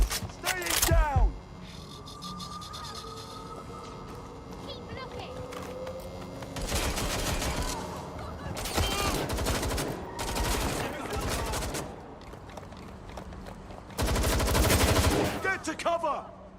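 Gunfire in the Watch Dogs: Legion video game, loud bursts of rapid automatic shots in several clusters with pauses between, alongside brief in-game voices.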